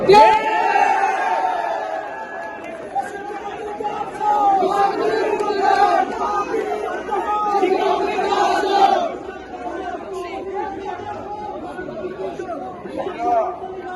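A crowd of students chants slogans at a university gathering welcoming the education minister, a loud mass of voices rising and falling steadily before easing to a lower murmur partway through.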